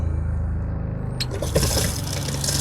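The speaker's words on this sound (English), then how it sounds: "Above the sink, you have the water pump. You turn it on," Water running from the faucet into the sink of a 1994 Dodge Sportsmobile van, with a steady low pump hum that swells into a louder rushing flow about halfway through, close up.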